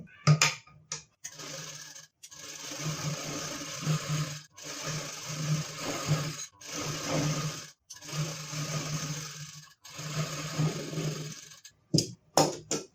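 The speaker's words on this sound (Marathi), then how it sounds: "एक परत आपल्याला डबल शिलाई करून घ्यायचं आहे" A sewing machine runs double stitching along the shoulder seam of a gown in repeated bursts of a few seconds each, its steady whirring hum close and clear, stopping briefly between runs.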